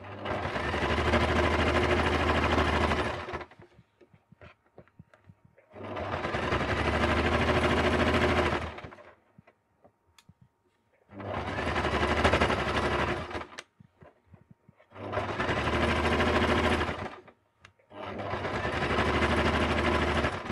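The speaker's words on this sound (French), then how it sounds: "la machine tape un petit peu. Il commence à y avoir beaucoup d'épaisseur" Domestic sewing machine stitching through thick layered fabric of a Christmas stocking, loud rapid whirring runs of about three seconds each separated by short pauses with faint clicks.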